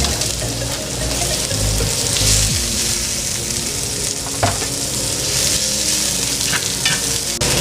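Onion sautés in a pan after garlic for a Filipino menudo, a steady close sizzle with occasional stirring clatter and utensil knocks.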